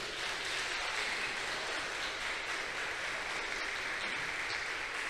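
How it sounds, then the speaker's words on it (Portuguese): A church congregation claps together in sustained, dense applause that fills the room evenly throughout, with no voices rising above it. "Você pode aplaudir ao Senhor?"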